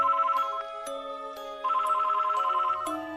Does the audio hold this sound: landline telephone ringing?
yes